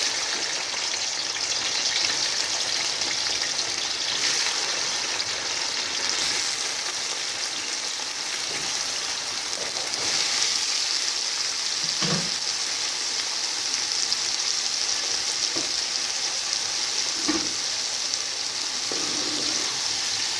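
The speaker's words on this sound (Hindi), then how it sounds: "ऑयल गरम हो चुका है, अब इसमें हम अरबियाँ डाल के इनको फ्राई करेंगे" Pieces of taro root (arbi) frying in hot oil over high heat, a dense, continuous loud sizzle like rushing water, close and unbroken, with a few faint knocks of a utensil against the pan and no voices.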